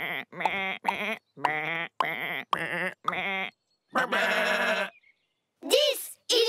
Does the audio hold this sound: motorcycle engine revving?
no